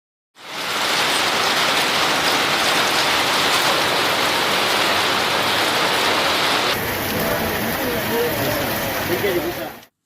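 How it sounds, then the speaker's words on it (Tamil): Heavy summer rain pours down in a steady, dense roar, loud and close, hissing evenly over surfaces for the whole stretch with no pauses or voices. "சூறைக்காற்றுடன் கனமழை கொட்டி தீர்த்தது"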